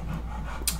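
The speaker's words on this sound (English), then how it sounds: "Sorry about the heavy breathing in the background. That's my dog." A pet dog panting heavily in the background indoors, soft quick breaths faint and close, with a brief sharp noise at the end.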